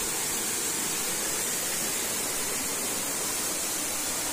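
A steady, dense roar of falling water fills the scene, constant and broad like a waterfall heard from nearby, with no voices, in Batangas, Philippines.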